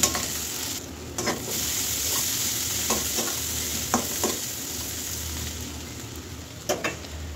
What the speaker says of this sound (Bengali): পেঁয়াজ আর লবণটা ভাজা হয়ে গেছে, এখানে কয়েক কোয়া রসুন আমি দিয়ে দিলাম।